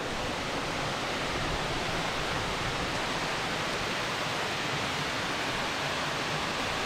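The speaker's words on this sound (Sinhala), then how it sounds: "මේ තියෙන ඇල්ල." Na Ella waterfall in the Knuckles mountain range, a loud, close, unbroken roar of falling water filling the whole sound evenly from start to finish, with no voices.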